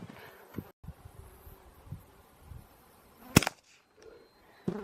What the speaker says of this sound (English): Already I can tell that this suppressor's definitely not as quiet as the DPT.